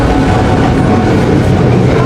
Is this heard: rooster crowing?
no